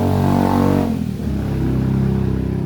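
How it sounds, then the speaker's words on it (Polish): A motorbike engine revs loudly nearby, then its pitch drops as the throttle eases before it settles into a steady, rumbling idle. "tragedia z tymi motorkami"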